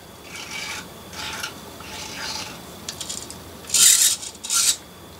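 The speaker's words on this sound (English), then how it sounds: "That motor sounds dreadful." Small 00 gauge 0-6-0 model locomotive motor running badly with bent conrods, producing repeated scratchy, rasping bursts that grow louder toward the end, heard close up with no talking.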